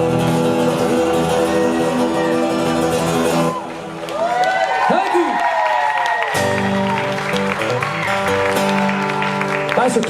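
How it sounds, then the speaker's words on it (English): A festival crowd at an outdoor Celtic music concert claps along in steady rhythm beneath singing and instruments, with scattered cheers and whoops through the middle. "Thanks for clapping along."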